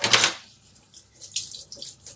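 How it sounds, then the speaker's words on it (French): A whisk is rinsed under a running kitchen tap: a loud gush of water at first, then quieter splashing and trickling close by, no voices. "je vais juste rincer mon fouet"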